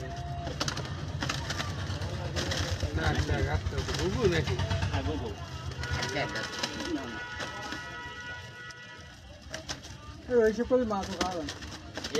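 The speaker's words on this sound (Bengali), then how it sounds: "এই পাখিগুলো আমি এখন এই যেমন ছেড়ে দিচ্ছি" Pet pigeons being released coo and flutter close by while someone talks over them throughout, with faint traffic in the background.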